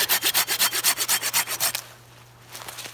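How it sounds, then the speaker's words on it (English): A Silky Pocket Boy 170 Japanese pruning saw cutting through wood in about a dozen fast, even rasping strokes, close and loud, then a pause and a few softer scrapes at the end. "That cuts through the wood."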